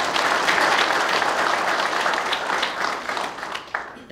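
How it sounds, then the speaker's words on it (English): Crowd applause fills the room at a Trooper of the Year award ceremony, a steady wash of many hands clapping that slowly thins over a few seconds. "Let's give them a round of applause."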